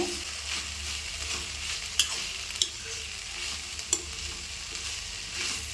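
Indian pennywort leaves sauté in a pan, giving a steady close sizzle with occasional sharp clinks and scrapes as a spoon stirs them.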